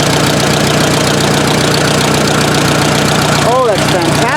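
Engine of a Case 530 tractor runs steadily at close range after a valve repair, a constant low chugging idle with a brief squeaky sweep near the end.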